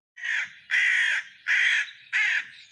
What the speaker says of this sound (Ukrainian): Ворона каркає.